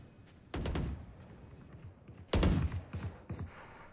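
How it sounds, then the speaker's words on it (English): Two bursts of gunfire ring out in an esports video game match, each a sharp loud volley followed by scattered shots, with quieter ambience between them. "Gunshots all around"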